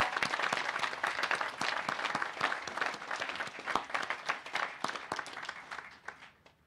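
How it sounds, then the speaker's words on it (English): Guests at a house dedication ceremony give sustained applause, a crackling mix of many hands with distinct individual claps standing out, fading near the end. "Let's give a round of applause for all of them."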